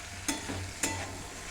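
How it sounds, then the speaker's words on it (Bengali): Chopped onion goes into a hot frying pan for hakka noodles, bringing a steady sizzle broken by two sharp scraping stirs of a spatula, with no one speaking. "এবার পেঁয়াজটা দিয়ে দিই।"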